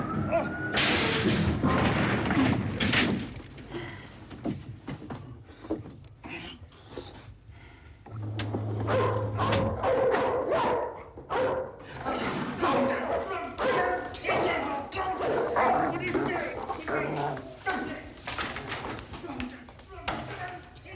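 A dog barks and yips repeatedly amid loud, overlapping talk between several people outdoors, the barks close and sharp, broken up by chatter throughout.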